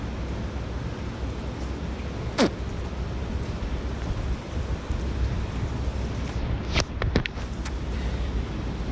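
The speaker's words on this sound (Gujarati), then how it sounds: "ધીમે ધીમે ધારી વરસાદ ચાલુ થયો હોય" Light rain begins to fall at a cow shelter, a soft continuous patter under a steady wash of noise, broken by a few sharp brief knocks.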